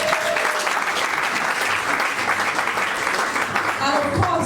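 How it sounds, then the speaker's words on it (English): Steady, loud audience applause at a panel event for Women's Month, a continuous dense roar of clapping from a sizable crowd with faint voices underneath. "she deserves a round of applause"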